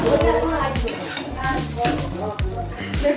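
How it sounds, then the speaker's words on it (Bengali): Rice being fried with onion and chili in a pan, with continuous sizzling and repeated stirring scrapes and clanks of a utensil against the pan, up close under speech. "ভাতটা ভেজে নিই, পেঁয়াজ লঙ্কাটাও ভাজি"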